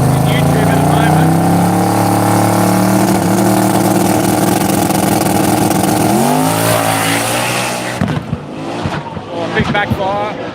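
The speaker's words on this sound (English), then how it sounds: "Oh, big backfire." A big radial drag racing car roars loudly down the strip with a rising engine drone, then cuts off into sharp backfire pops and crackles near the end.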